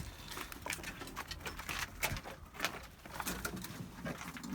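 Young pigeons in a loft coo softly and repeatedly at a distance, with rustling, wing flutters and light patter scattered throughout the quiet, short stretch, and no talk over it.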